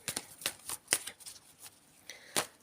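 Tarot cards being shuffled by hand: a handful of quick, crisp riffling bursts spaced irregularly, close and fairly quiet with no talking.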